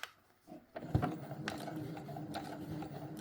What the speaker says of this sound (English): I'm going to sew the bag and the lining together on the sewing machine